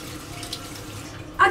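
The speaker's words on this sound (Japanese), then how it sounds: "はい、ということで手を洗いたいと思います。" A bathroom water tap runs steadily into a sink while hands are washed beneath it, a soft continuous splash that swells into a louder close gush near the end, with no talking.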